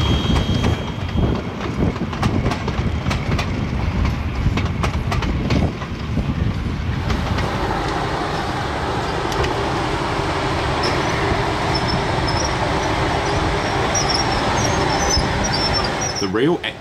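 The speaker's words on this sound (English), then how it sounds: "F13 heads a 1900 style passenger train along the Heathcote estuary." F13, a steam locomotive on the Ferrymead Railway, hauls a 1900-style passenger train along the Heathcote estuary with a loud, continuous rumble of running gear and rail noise that shifts to a steadier roar partway through.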